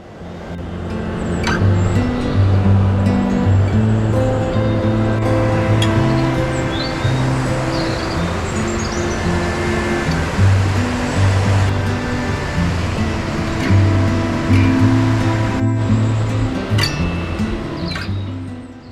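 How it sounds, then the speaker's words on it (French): Waterfall tucked in a narrow rocky gorge in the Alps near Champoléon, a loud, continuous rushing roar of falling water that fills the whole stretch without pause. "jusqu'à une cascade encaissée, nichée dans une gorge."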